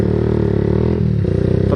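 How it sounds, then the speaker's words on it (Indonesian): Motorcycle fitted with an aftermarket trioval racing exhaust, a throbbing, buzzy exhaust note held steady and then dipping briefly, recorded close and fairly loud with no talk. "Nah, knalpot racing model trioval."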